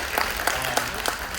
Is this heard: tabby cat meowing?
no